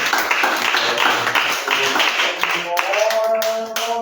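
A church congregation claps steadily to acclaim God during a service. The applause is loud and continuous, with voices and singing mixed in, and a sustained tone rises near the end.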